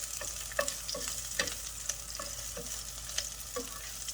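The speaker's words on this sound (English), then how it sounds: "This part you want to stir for a couple minutes." Peppers stir-fried in a hot pan for a spicy chicken dish, with a steady sizzle that keeps going under irregular scraping and tapping from the spatula. It plays close and fairly quiet, and no one speaks.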